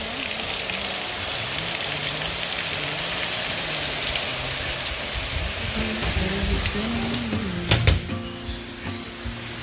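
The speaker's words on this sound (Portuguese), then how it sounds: "Mas não dá pra ver direito a chuva, né?" Rain falls steadily at night outside a home, a dense continuous hiss of drops with a low rumble underneath and a few louder knocks and taps near the end.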